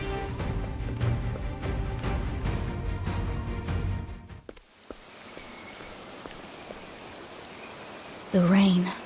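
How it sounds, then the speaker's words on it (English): Rain in Octopath Traveler 2 falls as a steady, soft hiss, at first under a busier layer of game sound and then on its own after a short lull, before a voice speaks briefly at the end. "The rain."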